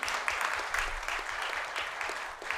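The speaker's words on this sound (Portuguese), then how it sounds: "Uma salva de palmas para Marcela Rosa" A brief round of clapping from an audience at a solemn session awarding the Tiradentes Medal, fairly soft and steady, with scattered individual claps.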